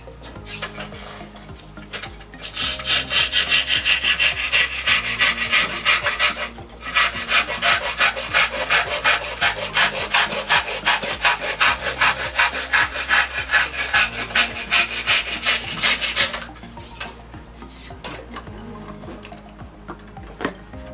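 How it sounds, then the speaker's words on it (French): A hand saw fitted with a clip-on back guide rasps through wood in long rhythmic strokes, loud and close, in two sustained bursts separated by a short pause, with quieter handling before and after. "De cette façon, on pourra scier d'une seule main"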